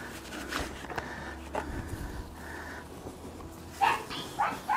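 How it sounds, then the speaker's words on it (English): A small dog barks repeatedly in the background of an outdoor garden while herbs are planted, the yaps coming in short uneven bursts at moderate distance amid soft rustling. "barking his little head off"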